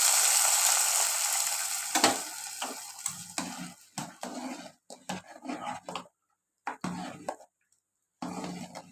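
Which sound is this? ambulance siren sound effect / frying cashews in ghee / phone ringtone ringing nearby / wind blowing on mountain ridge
frying cashews in ghee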